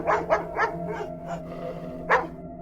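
A dog barks loudly from the back seat of a car, five quick barks in a burst followed by a pause and one more sharp bark, close and harsh.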